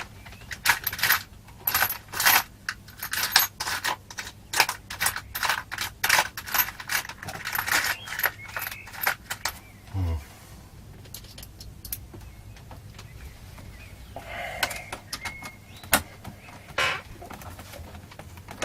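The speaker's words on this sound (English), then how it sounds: "Let's see what other bit I've got in there." Small metal screwdriver bits rummaged through in a container, with dense, rapid clinking and rattling that thins out into occasional taps and jingles.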